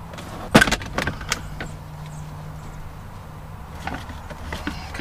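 Plastic interior trim piece popped off by hand inside a 2009 Subaru WRX during short shifter installation, a few sharp close clicks and snaps near the start, then quieter handling noises and faint clicks.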